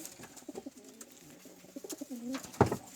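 A pigeon coos nearby in soft, rolling throaty notes, ending with a louder, fuller coo.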